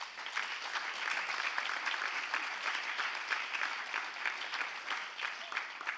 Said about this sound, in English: Now, another applause for that, please.